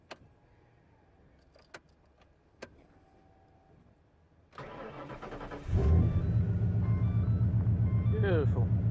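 A Ford AU XR8 Falcon V8, just fitted with a new fuel pump and sender unit: a few key clicks in near silence, then the fuel pump whirs as it primes. The engine cranks, catches and settles into a loud, steady idle.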